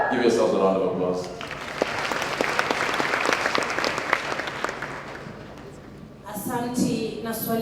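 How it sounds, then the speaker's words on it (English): An audience at a science exhibition opening in Kenya bursts into applause, dense clapping that starts suddenly, holds steady for several seconds, then fades while a voice speaks over the tail. "Give yourselves a round of applause."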